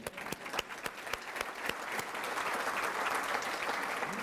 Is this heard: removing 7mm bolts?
no